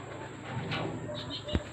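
Pigeons coo softly inside a six-foot-tall loft, a few low murmuring calls heard faintly over quiet background noise, with a brief louder thump near the end.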